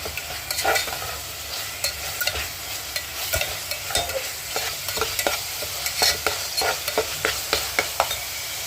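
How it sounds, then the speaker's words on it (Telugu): Mutton intestines and boti curry stir-frying in a pan, with a steady sizzle broken by repeated scraping strokes of a spatula across the bottom, close and fairly loud, no voices. "పచ్చివాసన పోయేదాకా ఫ్రై చేసుకోవాలి అడుగండుకున్న దాకా"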